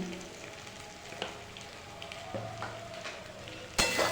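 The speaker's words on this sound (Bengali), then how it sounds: "ভালো করে ডিমটাকে ভেজে নেবো" A steady sizzling hiss of an egg frying in a pan with salt, with a few light scraping knocks and a sharper clatter near the end.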